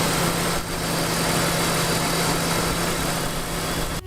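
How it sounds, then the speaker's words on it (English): A 2000 BMW Z3 2.3 with the M52 engine idles steadily after a water pump and fan replacement, a constant close hum with a low whine and no voices. "the next step is just to start the engine and let it idle"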